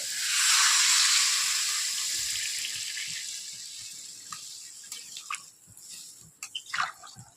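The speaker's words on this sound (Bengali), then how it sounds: "সবজিটা কষে নেব ভালো হয়ে গেছে আমি এবার জল দেবো" Water poured into sautéed vegetables for a singhi fish curry rushes and hisses loudly at first, then fades into softer bubbling and frying with scattered clinks and stirring taps.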